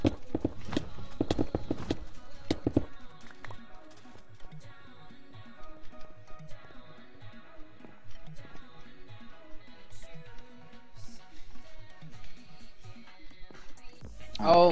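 Horse hooves clip-clop in the Minecraft Mega Walls game, a quiet, steady patter beneath game music, with a burst of sharper, louder hits in the opening seconds.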